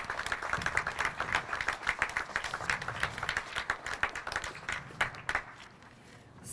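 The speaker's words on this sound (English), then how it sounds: "These are the people that we need to give an applause" An audience at an International Overdose Awareness Day event gives a lively round of applause, with individual claps distinct and rhythmic throughout, then tapering off near the end.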